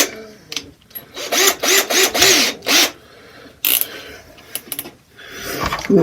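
A screwdriver driving a screw into wood while making an anchor stake: a few loud, close bursts of motor whine and grinding, separated by pauses and quieter handling noise.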